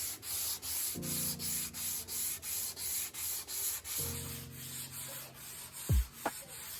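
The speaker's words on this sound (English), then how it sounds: "I'm gonna go ahead and sand everything by hand" Steady back-and-forth scratching of sandpaper on stained, varnished wood, sanded by hand in rhythmic strokes about two per second, close and fairly quiet, with a couple of soft knocks near the end.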